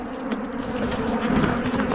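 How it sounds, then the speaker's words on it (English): Bees buzz in a steady, close, dense drone around an open beehive during beekeeping, the hum holding unbroken throughout without any talk. "The bees are not angry at all."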